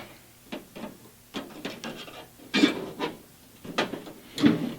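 Small metal clip pried up off the latch arm inside an International Scout II door, heard as a run of close, faint scrapes and clicks scattered irregularly, with a couple of sharper snaps near the end.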